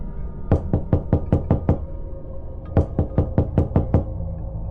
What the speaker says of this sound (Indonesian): aku mendengar suara ketukan dari arah pintu luar